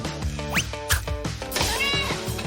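A cat meows several times in quick succession, close and fairly loud, its short rising and falling cries overlapping faint background sounds indoors.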